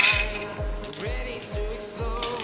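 A ratchet spins off the strut mount nuts on a 2007 Dodge Ram 4.7 V8, giving close, steady ratcheting clicks in five distinct bursts about half a second apart, with no talking.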